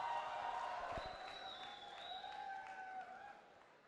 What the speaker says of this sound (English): Come on, guys, round of applause.